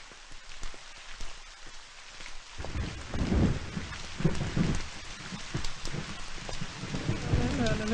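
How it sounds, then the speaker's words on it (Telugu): Steady rain pours onto surfaces with rumbling thunder rolling in partway through, loud and continuous in a Telugu film scene, with no voices heard. "ఇలా వర్షంలో నీతో నడుస్తుంటే నాకు చాలా హ్యాపీగా ఉంది."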